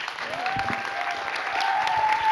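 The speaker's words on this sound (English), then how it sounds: "please a big round of applause to our guests" An audience applauds guests at an event, a soft, moderately distant patter of clapping with a faint sustained tone running beneath it.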